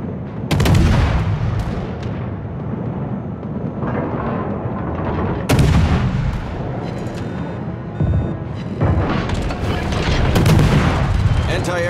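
Rapid anti-aircraft gunfire from a cruiser in World of Warships, the USS Atlanta, a dense, loud, continuous rattle of automatic cannon and booming shots with sharp bursts swelling throughout, mixed with battle noise.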